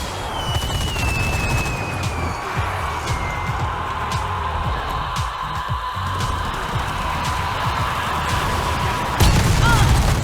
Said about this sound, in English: Might use the artillery strike here and see if we can nail the heavy gunner with it.